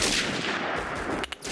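A Remington rifle fires in the shooter game Phantom Forces, a loud, dense blast that fills most of the moment before a brief dip near the end.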